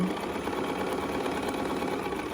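Sewing machine running steadily as it stitches a quarter-inch quilt seam, a continuous close mechanical whir with a fast even rhythm and no pauses.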